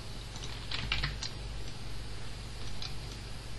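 Computer keyboard keys are pressed while working in Blender 3D software, a few quick close clicks clustered together and then one more later, soft and clear over a quiet hum.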